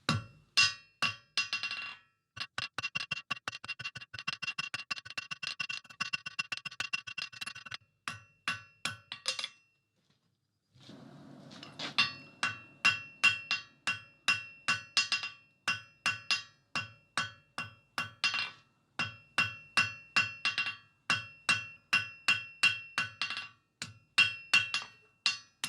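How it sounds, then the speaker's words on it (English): Rapid series of ringing hammer blows forging metal on the near edge of an anvil, struck in bursts with brief pauses between, bright and close. "I'm going to come on the near edge of the anvil and just try and be accurate with my hammer blows"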